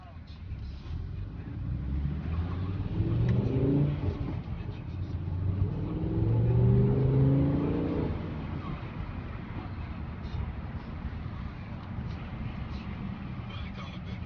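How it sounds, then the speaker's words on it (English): Low engine rumble from a BMW E60 M5 heard from inside the car with the windows down, swelling twice as it revs up while driving, then settling to a steadier drone. "trying to find a way for us to get some of the sound of the engine in."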